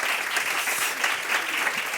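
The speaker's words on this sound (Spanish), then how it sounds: "Un aplauso, por favor, Carmen" Steady applause from a crowd, a dense patter of many hands clapping continuously without pause, fairly loud and close.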